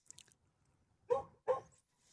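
A dog gives two short, muffled barks in quick succession at an outdoor lawn bowls semi-final, heard at a moderate distance after faint high chirps.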